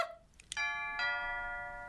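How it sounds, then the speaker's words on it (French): A door chime rings out clearly, a short high ding followed by a second tone, each leaving a bright, lingering bell-like ring that slowly fades, with no voices over it. "Une cloche pour la porte."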